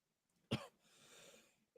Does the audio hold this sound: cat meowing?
no